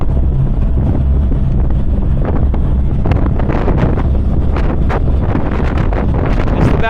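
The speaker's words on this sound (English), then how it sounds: "Super windy too." Strong wind gusting on Hon Son Island, Vietnam, during thunderstorm season, buffeting the microphone in a loud, steady roar with no talking.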